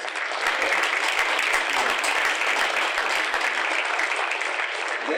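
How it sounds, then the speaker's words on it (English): A round of applause at an induction and recognition event honoring sponsors and donors, an even, continuous wash of many hands clapping in a large room, steady from start to finish with no talking. "Please give them all a round of applause"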